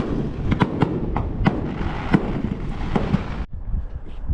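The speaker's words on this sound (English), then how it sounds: "You probably can't hear me with the amount of fireworks in the background" Fireworks going off over Bogue Inlet Pier at Emerald Isle, North Carolina: a steady roar of crackling bursts with repeated sharp pops and bangs, loud and continuous, that cuts off abruptly near the end and leaves faint background noise.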